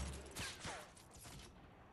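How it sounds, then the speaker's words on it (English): Grenade launcher fire in the Fortnite Battle Royale video game: a couple of quick, faint explosive bursts with rumbling tails in a short burst of gameplay sound. "We're going to shoot them with grenade launchers and literally just blow his base up."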